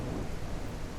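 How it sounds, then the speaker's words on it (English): Steady rumbling thunder from a video game storm with a rain-like wash, continuous and full without distinct cracks, heard alone. "One of those thunder sound effects."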